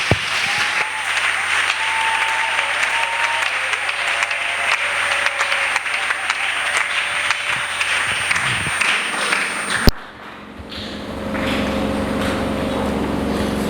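A church congregation gives sustained applause and cheers, a dense wash of clapping with a few scattered shouts, ending abruptly in a sharp cut to a quieter room tone.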